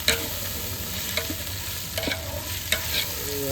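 Meat fried with ginger-garlic paste and chilli powder is stirred in a pan, giving a steady close sizzle broken by repeated scraping strokes of the spoon, with no talking.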